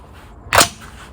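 A single sharp, loud rifle shot from a Zbroyar Z-10, brief and percussive crack with a short tail against a quiet background, fired at steel gongs 500 m away.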